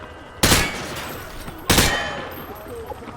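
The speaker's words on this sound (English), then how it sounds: "He sprayed bullets all over the damn place." Rifle fire sprayed at targets on a shooting range in the video game Call of Duty: Modern Warfare 2 (2009): two loud, sharp gunshot bursts about a second apart, each trailing off into echoing range noise.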